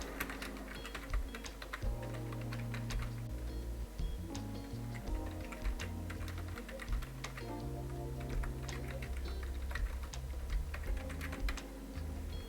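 Typing on a computer keyboard while entering a heading in capital letters, a steady run of close, clicky keystrokes over faint background music.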